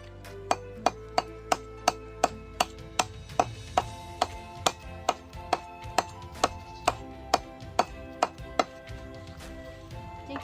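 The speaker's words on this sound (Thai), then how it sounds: "สับหยาบนะคะได้ประมาณนี้นะคะ" Coconut husks being chopped coarsely with a blade, about twenty sharp, evenly spaced thwacks in a steady rhythm, close and clear with no other sounds.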